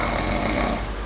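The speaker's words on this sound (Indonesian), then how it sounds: "malah ngorok" Young child snoring, a steady rasping breath noise close by, with no talk.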